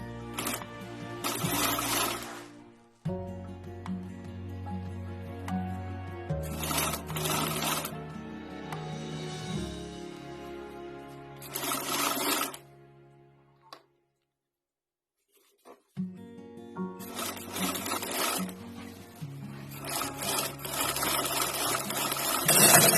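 A sewing machine stitches a folded fabric strap for a small designer bag. It runs in loud, humming bursts with brief pauses between them and one longer silence before it starts again.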